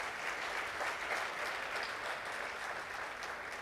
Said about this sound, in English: I want all of you to give a round of applause to that most powerful lady.